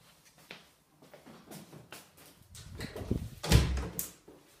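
A bathroom door swings shut in a house, ending in a soft, muffled thud with faint creaks and shuffling just before it; quiet and close-miked.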